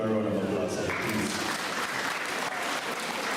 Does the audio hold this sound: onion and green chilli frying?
no